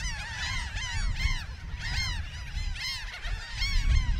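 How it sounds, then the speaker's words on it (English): A seabird colony of brown boobies on Bird Cay off Jamaica, with many overlapping honking and squawking calls in dense rhythmic bursts, loud and continuous over a low wind rumble. "this would be an awesome seabird colony no matter where you put it"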